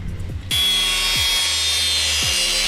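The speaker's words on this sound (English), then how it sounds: "So I've just cut this little section out." Power tool cutting a metal section out of the sill on a VR6 car, starting abruptly after half a second and then holding a loud, steady, harsh whine to the end.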